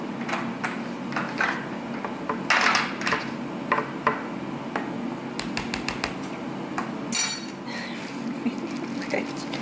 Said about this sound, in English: So I'm gonna stir it real quickly.